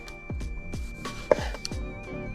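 A knife slicing a tomato on a board for a sandwich, with a quick series of about eight crisp cuts that land as soft knocks, close and alone.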